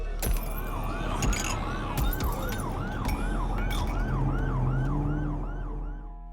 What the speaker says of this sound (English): And then came the sirens.